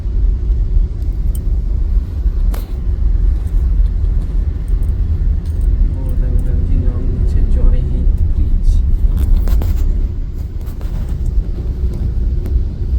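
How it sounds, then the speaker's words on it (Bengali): Cars sit in a heavy traffic jam on Majerhat bridge in Kolkata, heard from inside a car as a steady low engine rumble with occasional faint horns, while a person talks over it. "আর জ্যামটা লেগেছে দেখো শুধু"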